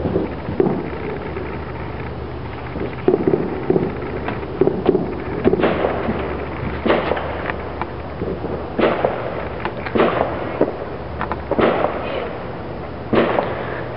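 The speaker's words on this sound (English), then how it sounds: "So this is a small fountain fireworks." Small fountain fireworks crackle and pop in scattered bursts over a steady background rumble, with several sharp reports spaced a second or two apart, at a Fourth of July celebration.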